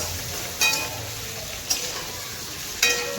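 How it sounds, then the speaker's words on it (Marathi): Carrots fry in a pan with a steady, moderate sizzling hiss, broken by three brief stirring clinks spaced over a few seconds. "गाजर पण मस्त फ्राय करून घ्यायचे"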